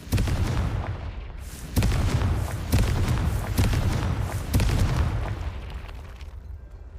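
Confringo blasting spell explosions in the game Hogwarts Legacy, a series of loud booming bursts roughly every second, heavy and close, with rumbling decay between hits.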